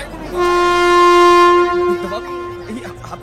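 A train horn sounds one long, loud, steady blast for over a second, then fades into the rumble and clatter of a train starting to move.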